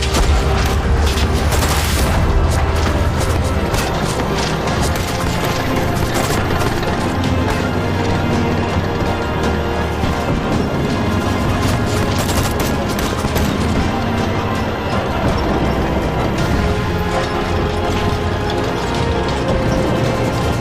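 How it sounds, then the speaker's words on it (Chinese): Sustained gunfire and explosions from a war film battle scene set in the anti-Japanese war: dense, loud volleys and blasts run continuously throughout with mechanical rattling, and no speech. "开火！"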